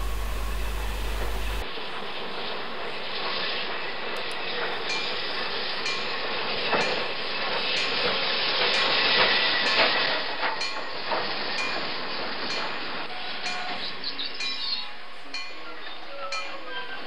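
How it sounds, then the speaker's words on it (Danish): A long passenger train of 15 carriages rolls steadily through a curve in Nørresundby, a continuous loud rumble with faint clicking wheels throughout. "Den imponerende togstamme på 15 vogne i krøllen i Nørresundby."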